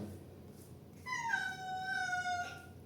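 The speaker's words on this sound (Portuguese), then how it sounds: "esse é meu gato" A pet cat gives one long, drawn-out meow that bends in pitch and then fades, clear against quiet room hiss.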